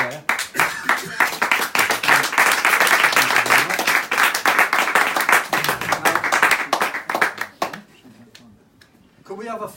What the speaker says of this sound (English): Applaud there.